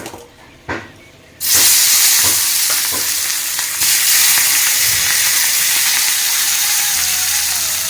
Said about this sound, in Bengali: এদিকে এখন মাছের মাথাটা ভেজে নিলাম এক পাশে